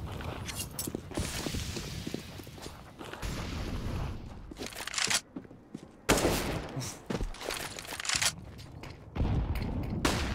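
Counter-Strike gunfire on the Dust 2 map during a competitive match, with bursts and sprays of shots, single cracks and footsteps in between, loud and close, and a brief spoken line.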